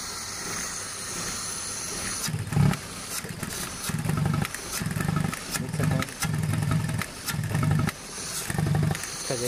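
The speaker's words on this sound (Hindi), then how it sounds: "आप देख सकते हैं कितनी गाड़ी जर्किंग कर रही है।" A Hyundai Santro engine with a misfire and a faulty accelerator, revved in repeated surging bursts that jerk and stumble unevenly, loud and close, with no voices.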